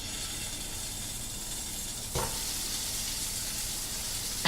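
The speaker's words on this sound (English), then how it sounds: "As you can hear that sizzle." Tuna sears in a hot pan with a loud, steady, close-up hissing sizzle throughout, swelling briefly midway as the fish shifts against the metal.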